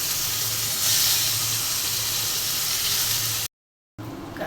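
Teasel gourd dropped into hot oil gives a loud, continuous hissing sizzle that swells slightly early on, then breaks off briefly before a quieter sizzle returns.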